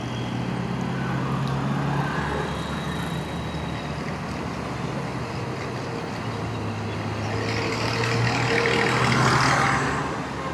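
Steady road traffic rumble from cars and trucks heard while riding a Kawasaki Z900, a broad continuous wash of engine and tire noise that swells slightly near the end, with no talking.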